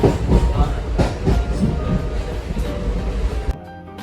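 Train rolling into a station on a city rail line, a steady rumble with rhythmic wheel clatter and clanks close by, easing off into quieter hum near the end; no talk over it.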